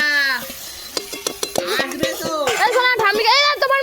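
Chicken sizzles in a hot wok while a utensil scrapes and clatters against the pan in quick strokes, with voices talking over the cooking.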